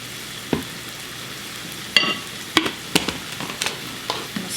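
Minced garlic is stirred into sausage frying in a pan, giving a steady low sizzle broken by several sharp scrapes and clicks of the utensil against the pan.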